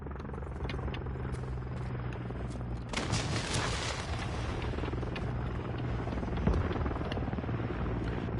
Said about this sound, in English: Enemy Overwatch helo inbound.